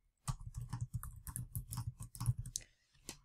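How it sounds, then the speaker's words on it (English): Rapid clicking of keys on a computer keyboard, a close, quiet run of irregular taps with brief pauses. "if I start typing in G, I've got two possibilities, green or gray"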